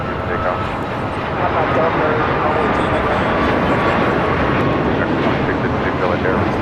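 A jet takes off at LAX with a continuous broad engine roar, loud and sustained throughout, while air traffic control radio chatter plays over it.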